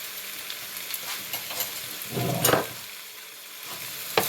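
Mongolian pork sizzles and fries in a pan as it is stirred, a soft crackling hiss with scraping swells of stirring, fairly quiet and without talk.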